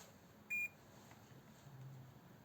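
A single short electronic beep from a multimeter continuity test, clear and steady, sounds once in an otherwise quiet setting.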